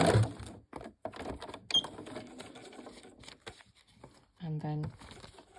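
Sewing machine stitching along a line on a mini fussy-cut foundation paper pieced quilt block, with short bursts of mechanical whirring between pauses and a faint voice talking nearby.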